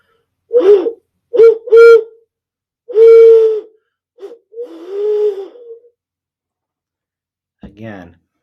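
Short, breathy hooting tones are made by blowing across a glass bottle partly filled with water. Several separate high-pitched toots follow one another with gaps, close and fairly loud.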